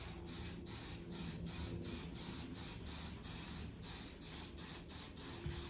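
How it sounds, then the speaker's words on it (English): Rapid repeated bursts of aerosol spray paint hissing from a can onto engine parts, short pulses in a steady rhythm, close and fairly quiet. "Actually hurt my fingers trying to spray this."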